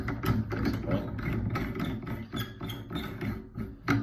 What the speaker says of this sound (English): It's got this little spring that will engage with teeth on the base there, ratchet down